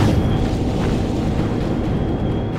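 Battleship cannon fire and explosions in the naval combat game Battlestations Pacific make a dense, sustained booming rumble with a loud, steady roar across the whole short stretch.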